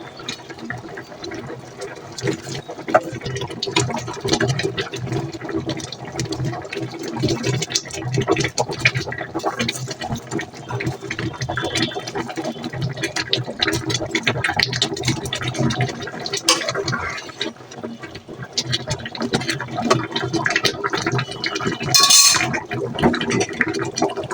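Curry gravy boils in a pot as jackfruit koftas are dropped in, giving a dense, continuous bubbling and churning sound with occasional light clinks of utensils.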